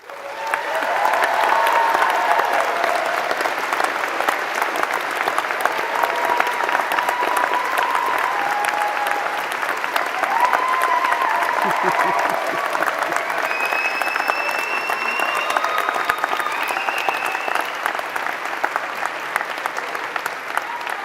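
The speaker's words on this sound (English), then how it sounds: "That's the best applause I've ever had" A university graduation audience delivers long, steady applause, a full roar of many clapping hands that stays even throughout, with a few faint voices rising now and then.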